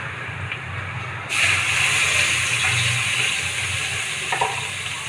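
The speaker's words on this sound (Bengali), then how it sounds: "এখন আমি মশলাটা দিয়ে দিচ্ছি" Spices hitting hot oil in a pan, bursting into a sudden loud hiss and sizzle after a quieter moment, then sustained steamy frying noise with a couple of faint clinks, close and alone without talk.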